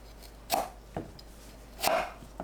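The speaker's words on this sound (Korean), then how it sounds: "반으로 한 번 더 자른 뒤 위아래 심지를 제거하세요." Knife blows cutting through a chestnut kabocha squash on a board: two sharp, close chops with a softer cut between them, separated by quiet pauses.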